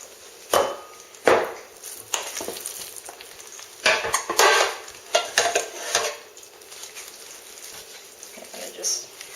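Scraping and clanking of a utensil against a loaf pan as a 2-pound meatloaf mixture is pressed in a little at a time, with irregular close knocks and scrapes; a voice talks in between.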